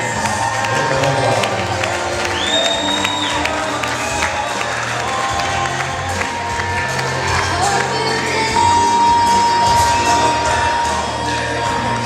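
Wedding reception crowd applauding and cheering after a father and daughter dance, a loud, continuous wash of clapping, whoops and shouts lasting throughout, with music or voices mixed in.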